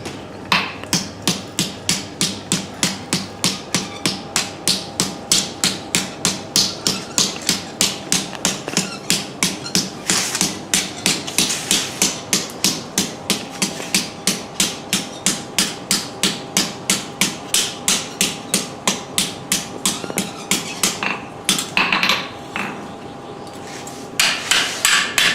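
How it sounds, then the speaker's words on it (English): A hammer strikes hot metal being forged into a crucifix, producing a long run of loud, evenly paced ringing blows with a brief pause near the end before the strikes resume. "And so we'll forge this up."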